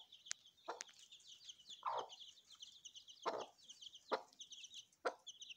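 A hen clucks in short, separate calls spaced about a second apart, close and fairly soft, with a continuous chirping of chicks behind her.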